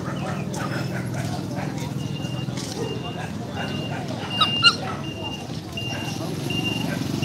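Dogs at the Bac Ha dog market in Vietnam give a few faint yips and whimpers, buried in steady market crowd noise and nearby talk.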